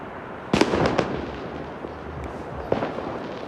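Diwali firecrackers go off outdoors in a garden, a cluster of sharp bangs and crackles near the start followed by a single later pop, fairly close over a windy background hiss.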